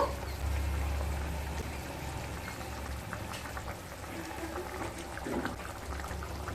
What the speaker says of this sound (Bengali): ঝোলটা ফুটে এসছে এরপর ভেজে রাখা মাছগুলোকে দিয়ে দেব